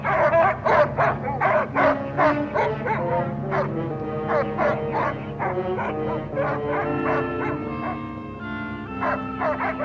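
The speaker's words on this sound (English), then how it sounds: "Those dogs won't hurt you." Several dogs bark, yip and whimper close by in a rapid, overlapping chorus that continues throughout, loud and busy.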